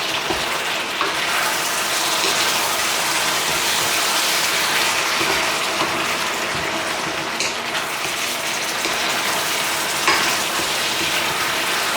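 Chicken and potatoes stir-fried for a Cantonese stew, a loud, steady sizzle that runs unbroken for several seconds with faint stirring knocks and no voices.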